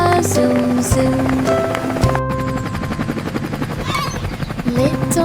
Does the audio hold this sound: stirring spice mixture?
no